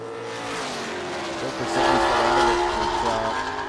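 Drag racing car lifting its front wheels in a wheelstand at Sydney Dragway during a NSW Championship round, a loud sustained engine roar with rising revs and shifting tones, close and steady, with a commentator's voice running over it.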